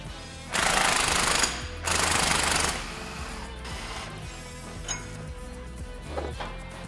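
Two loud bursts of a power tool rattling as a truck's rear spring bolt is removed in a garage, followed by quieter clinks and workshop handling sounds.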